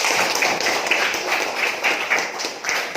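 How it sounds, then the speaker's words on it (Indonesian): Students applauding a classmate in a school classroom, a steady wash of many hands clapping together throughout, fairly loud and close with no pauses. "Kasih aplaus dulu untuk Indah."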